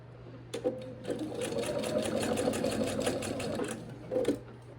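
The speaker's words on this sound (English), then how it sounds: "as you're letting your two pieces of fabric feed through the sewing machine" A sewing machine runs in a quick, steady mechanical whir, stitching two pieces of fabric together, starting and stopping with brief pauses, close and moderately loud.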